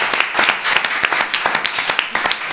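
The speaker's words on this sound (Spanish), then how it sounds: "Un aplauso." Studio audience at a Spanish TV quiz show clapping, a dense patter of many hands with sharp, closely spaced claps, loud and near, continuing steadily without voices on top.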